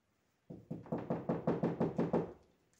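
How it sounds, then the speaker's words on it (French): A steady series of about nine firm knocks on a wooden door, evenly spaced and fairly close, with silence around them. "Le loup frappe à la porte."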